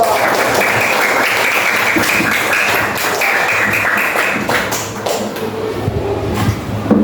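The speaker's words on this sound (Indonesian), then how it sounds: "Bagus sekali, tepuk tangan dulu." A classroom of students claps together in sustained, dense applause for several seconds, fairly close and loud, tapering slightly near the end.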